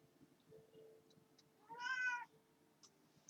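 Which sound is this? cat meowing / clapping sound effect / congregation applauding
cat meowing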